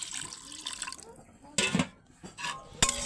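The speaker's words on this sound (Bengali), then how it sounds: "অল্প করে পানি দিল" A little water is poured into a cooking pan for a small-fish curry, giving several short splashing bursts of liquid, close and moderately loud, separated by brief quiet gaps.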